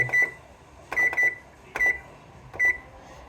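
An oven's control panel beeps as the bake setting is keyed in, five short, sharp electronic beeps at uneven intervals, close and clear over quiet kitchen background, with no talking.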